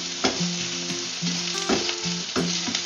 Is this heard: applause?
no